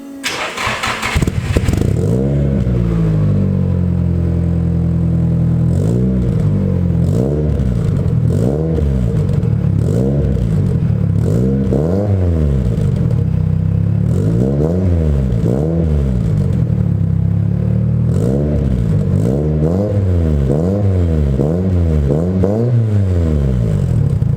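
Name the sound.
cold car engine started and revved to about 2000 rpm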